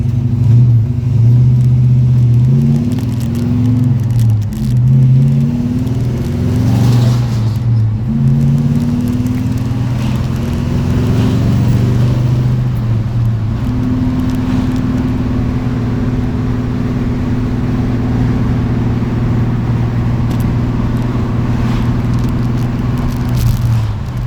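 A 1955 Chevy Bel Air with a standard shift drives along, its engine a steady loud rumble close by, the pitch climbing and dropping through several gear changes before settling into an even cruise.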